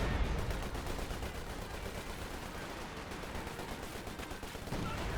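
Dense, continuous gunfire from the Company of Heroes 2 real-time strategy game, with overlapping rifle and machine-gun bursts blending into a steady battlefield roar at fairly even loudness throughout.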